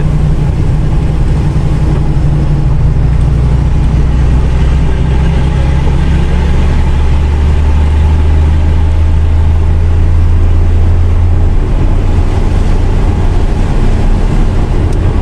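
A steady low engine drone from a Fargo Hino dump truck rolling along a road, continuous and fairly loud with no talking.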